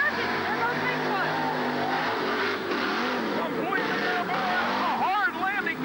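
The Bigfoot Ford monster truck roars through its run at a 1988 Pittsburgh USHRA event, its engine revving and rising in pitch under crowd noise and an announcer's voice.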